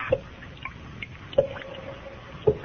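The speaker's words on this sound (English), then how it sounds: "The sound you hear is dripping blood." Slow drips of liquid fall one at a time, three distinct drops spaced over a couple of seconds, close and alone, each a short wet plink with a faint ringing tail, meant to suggest dripping blood.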